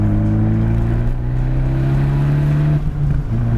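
An Abarth 124 Spider turbo engine revs hard and climbs in pitch as it accelerates, loud and close, with a brief dip like a gear change near the end.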